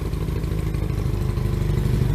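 A motorbike engine, a Thunderace, runs close by through an overly loud exhaust, a rough, rapid low-pitched burble with steady clattering pulses and no talking.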